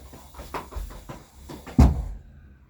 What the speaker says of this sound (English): Let me pull up my chair.